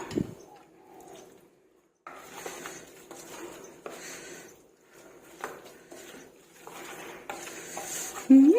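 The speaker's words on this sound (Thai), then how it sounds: "ผักใส่ลาบลงไปเลย แบบนี้เลยค่ะ" Chopped vegetables are mixed into Isan-style pork laab with pork skin and toasted rice, heard as close, intermittent stirring, scraping and soft utensil clinks against a bowl, separated by short quiet gaps.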